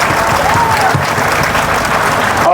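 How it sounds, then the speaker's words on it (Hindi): Loud, steady applause from an audience at a Bhagwat Katha religious gathering in Gorakhpur, sustained clapping filling the space from start to finish. "इसलिए एक बार उनके लिए भी जोरदार तालियां।"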